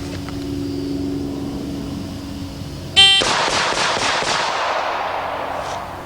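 A single loud shot from a Smith & Wesson 460 revolver firing a defense load cracks sharply after a quiet hum, followed by a rolling echo that decays over a few seconds outdoors.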